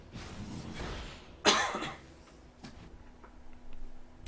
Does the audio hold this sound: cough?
yes